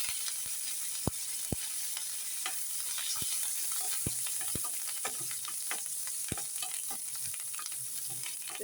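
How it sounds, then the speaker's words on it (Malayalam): Mustard seeds, dried chillies, curry leaves, ginger and garlic fry in hot oil for a chickpea curry tempering, giving a steady close sizzle with scattered sharp pops and crackles and the scrape of stirring, with no voices. "ഇത് കടുകിട്ട് വറ്റൽമുളകിട്ട് കറിവേപ്പില, ഇഞ്ചി, വെളുത്തുള്ളി,"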